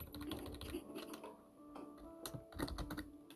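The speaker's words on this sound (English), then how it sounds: "if you hear me keep typing, I am typing in chat" Rapid clicking of a computer keyboard being typed on during a gaming session, a busy uneven patter of keystrokes with a brief pause midway, close and moderately loud.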